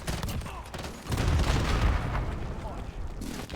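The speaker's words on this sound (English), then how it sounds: "Where are the explosions from?" Explosions and gunfire in a Call of Duty: Modern Warfare (2019) match: deep, rumbling blasts and bursts of fire roll together in a loud, dense barrage.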